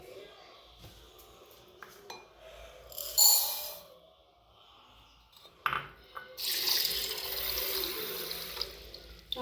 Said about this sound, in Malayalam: ആവശ്യമുള്ളത്ര വെള്ളം ഒഴിക്കുക.